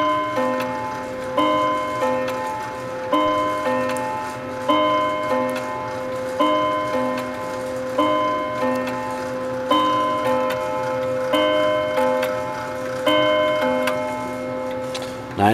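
An antique key-wind banjo wall clock ticks steadily while its chime rings out in clear, repeated tones at an even pace, loud and close with no talking.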